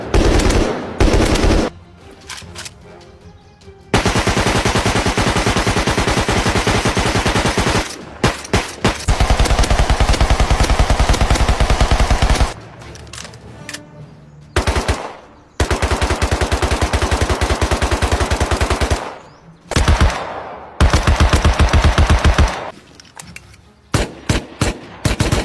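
A BMP-2 infantry fighting vehicle of a mechanized brigade fires in city combat near Bakhmut, loud sustained bursts of rapid automatic fire lasting several seconds each, broken by short quiet gaps.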